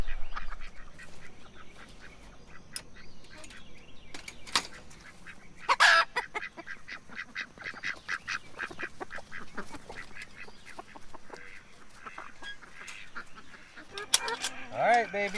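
Free-range poultry, ducks, geese or chickens, are let out of their pen for the day, keeping up close, busy honking and quacking calls in bursts, along with a person's voice and some rustling.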